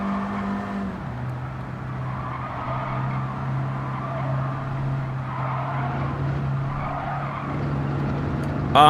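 A 50-plus-year-old Citroen racing on the Nürburgring in Gran Turismo 7: a steady loud engine drone runs throughout with tire squeal and skidding swelling in and out, and a sharp burst at the very end.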